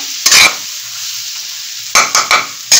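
Dry potato bharta with spices, no water added, is stirred in a pan: four or five brisk scraping strokes, one short burst then a quick cluster, with quiet gaps and a faint sizzle between.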